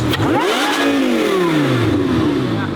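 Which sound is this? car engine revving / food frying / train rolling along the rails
car engine revving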